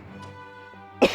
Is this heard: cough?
yes